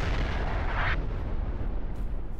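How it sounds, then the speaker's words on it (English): A gas missile strike hits the streets in the DayZ video game, heard as a loud, sustained roar of rumbling blast noise that carries on for a couple of seconds with no talking. "Around 40 seconds later, the streets are hit with gas."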